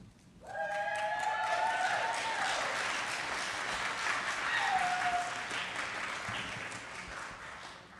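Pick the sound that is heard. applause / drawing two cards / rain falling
applause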